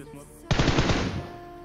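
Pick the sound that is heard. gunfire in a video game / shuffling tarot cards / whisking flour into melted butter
gunfire in a video game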